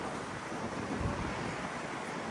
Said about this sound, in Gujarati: પવન તો જો